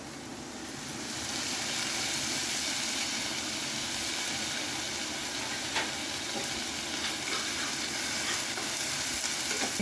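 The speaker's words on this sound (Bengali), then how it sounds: "আমি আদা রসুন লঙ্কা পেস্ট দিয়ে দিলাম" Ginger, garlic and chilli paste frying in oil with onion in a home kitchen pan, a steady close sizzle that swells after the first second, with occasional stirring clinks.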